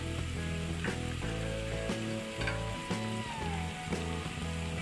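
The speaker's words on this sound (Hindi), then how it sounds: "देखिए अब प्याज फ्राई हो रही है, प्याज लाइट ब्राउन हो गई है।" Onions fry in ghee for mutton kunna, a steady close sizzle with faint stirring, heard under a bed of rhythmic background music.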